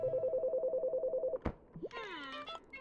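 Phone booth in the Chicory video game: a steady pulsing ring tone repeats quickly and evenly, then a thunk and a short burst of warbling chiming tones, all quiet and close.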